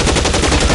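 Loud, dense automatic gunfire from the LA Noire video game, a rapid continuous burst of shots filling the short moment.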